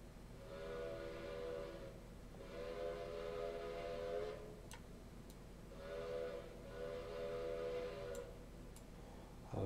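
Steam locomotive whistle in the Railroader train game, sounding as two long steady blasts separated by a short pause, over a constant low engine rumble with a few faint clicks.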